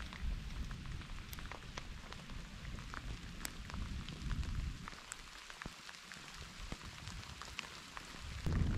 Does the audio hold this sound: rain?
yes